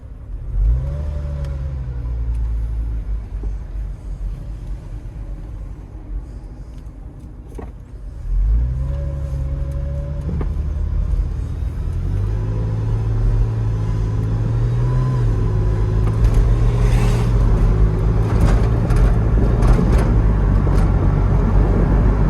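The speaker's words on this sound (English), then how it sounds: "So the car drives pretty smoothly, even though it's got a slight misfire." A cheap, running Porsche 911 with a slight engine misfire drives along, its engine droning and rising in pitch through gear changes, with the loud mid-range growl growing steadily into a stronger, busier rumble.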